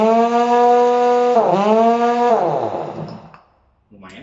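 An FB-7020 air impact wrench spins at its second speed setting, a loud, steady harmonic whine close up that dips and shifts pitch midway before winding down and cutting off, with a brief burst at the end.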